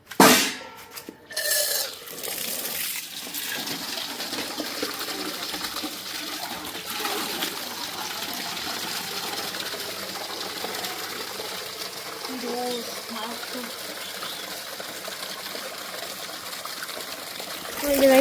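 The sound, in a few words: water filling a bucket for a bath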